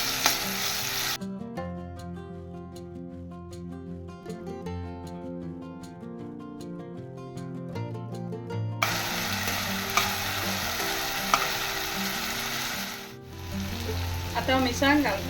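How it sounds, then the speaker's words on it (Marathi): Goan tomato masala for catfish ambot tik sizzles in a pan as it is stirred. Steady frying hiss grows louder in the second half, under strong background music that runs through most of the stretch. "आतां हांव फोण्ण बरें भाजयता."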